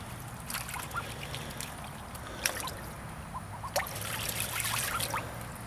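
Young ducks splashing and paddling in a backyard pool, soft trickling water with a few sharper splashes, fairly faint and steady under a low background hum.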